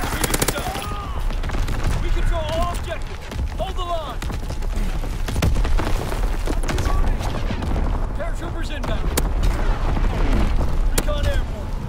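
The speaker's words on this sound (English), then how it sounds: "Firing division artillery." Division artillery pounds away in a WW2 game battle, rapid bursts of gunfire and heavy booms rolling continuously, dense and loud, with radio-style voices speaking over the barrage.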